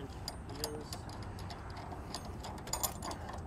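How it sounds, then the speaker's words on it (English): A nylock nut threaded by hand onto a hex bolt on a Curt trailer safety chain holder bracket, giving faint, irregular metallic ticks and small clicks, close and quiet, with no talking. "Then we'll place our nylock nut here and just thread it over our hex bolt."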